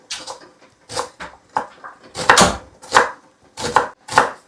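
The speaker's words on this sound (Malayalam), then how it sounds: "നമുക്ക് ഉള്ളി കുനുകുന അരിയാം ഗൈസ്" Onions being finely chopped on a board for egg puffs, a series of sharp knife strikes in quick bursts, close and clear with no talking.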